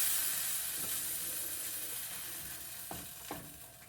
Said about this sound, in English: we're just going to stir all this stuff together